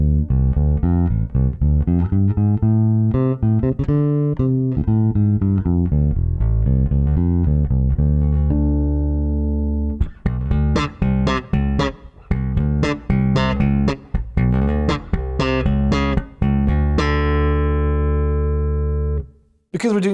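A Dingwall Super PJ4 bass in Ferrari Green Satin is played fingerstyle on its P pickup, starting with sustained, rounded notes and moving into quicker, punchier plucked phrases, clean and solo with no talking.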